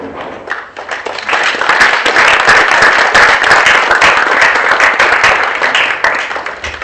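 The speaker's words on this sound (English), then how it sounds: "I would like us to just say thank you by giving a round of applause" At a prize-giving ceremony for low-tech innovation, an audience breaks into applause that swells quickly and stays loud and even for several seconds, with a few sharper claps standing out from the crowd.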